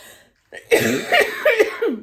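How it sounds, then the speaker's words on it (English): A woman coughs several times in a quick, harsh burst after a brief silence, close and loud, with rough throaty rasps between the coughs and no speech. "My cough's getting so bad."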